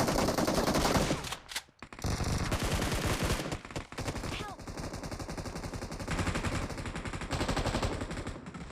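Rapid gunfire from a DBS double-barrel shotgun in the mobile battle royale BGMI, loud and dense bursts repeating through the match with brief pauses, with voices faintly underneath.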